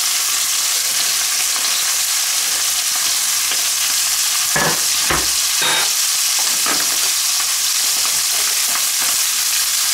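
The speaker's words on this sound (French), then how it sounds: "Là, on va mettre notre garniture, un oignon émincé, une carotte émincée," Sliced onion and carrot, added to browning lamb for a lamb and sorrel sauté, fry loudly in a pan, a constant hiss with a few spoon scrapes in the middle.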